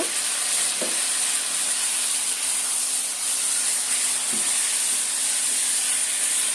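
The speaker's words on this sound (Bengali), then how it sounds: "এবারে মাংসটা দিয়ে দিলাম, দিয়ে এখন ভালো করে একটু কষিয়ে নেব" Country chicken pieces fry in hot oil with cinnamon and black cardamom for a spicy potato-chicken curry, sending out a loud, steady sizzle and hiss with an occasional faint stirring knock.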